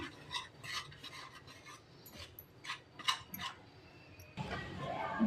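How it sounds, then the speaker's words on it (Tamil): Wet, scraping stirring of thick rice flour dough mixed with water in a bowl, a series of short rasping strokes, close and moderately loud, with a steadier rubbing noise near the end. "தண்ணி ஊற்றி நம்ம நல்லா மிக்ஸ் பண்ணிக்கலாம்."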